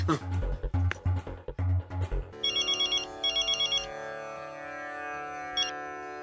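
People talk at first, then a phone's electronic ringtone trills in two repeated bursts and chirps once more briefly, over a low steady hum.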